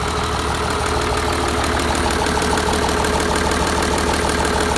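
A Volvo Penta AD41 200 hp six-cylinder diesel marine engine runs steadily and loudly close by, a continuous rumbling drone with a fast rhythmic knock and no speech.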